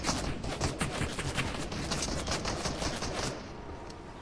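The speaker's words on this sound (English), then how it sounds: "Uh-oh, oh, you're getting shot at." Dense, rapid gunfire from Fortnite crackles nonstop in overlapping bursts aimed at the player, loud and close, easing slightly near the end.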